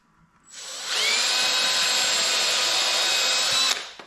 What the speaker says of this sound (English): So the first thing to do is to drill a pilot hole right here.